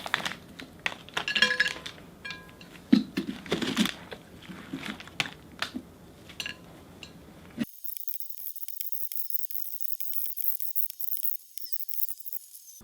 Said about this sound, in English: I'm using the pumpkin spoon scraper I got from the carving kit just to get all